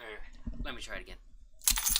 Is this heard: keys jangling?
yes